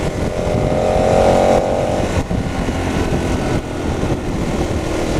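A KTM 1290 Super Adventure S motorcycle engine pulls hard under steady acceleration, a loud continuous roar with wind noise and brief dips at gear changes.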